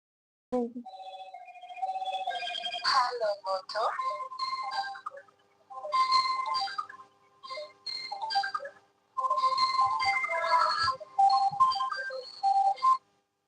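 A phone ringtone plays in repeated melodic bursts with short pauses between them, fairly close and clear, with no one speaking.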